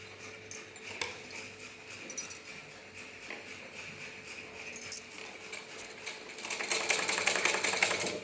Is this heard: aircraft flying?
no